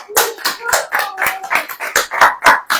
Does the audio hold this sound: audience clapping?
yes